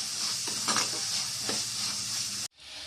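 Onions sautéing with salt in a pan for a fish curry make a steady, loud hiss with a few stirring scrapes, then cut off abruptly near the end before the sizzle resumes more quietly.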